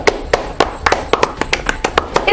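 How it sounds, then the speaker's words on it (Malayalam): A group applauds a correct answer in a school Independence Day quiz: a quick run of sharp, fairly close hand claps in an uneven patter, with no voices over them. "എല്ലാവരും അൻസിലിനൊരു ക്ലാപ്പ് കൊടുക്കൂ"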